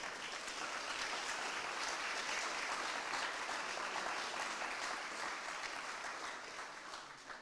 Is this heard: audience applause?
yes